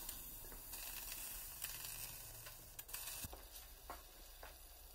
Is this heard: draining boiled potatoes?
yes